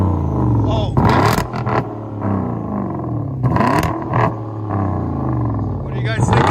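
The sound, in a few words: Hyundai Genesis/Equus V8 engine revving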